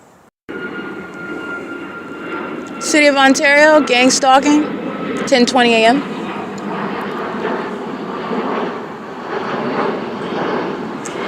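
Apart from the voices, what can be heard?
airplane engine noise overhead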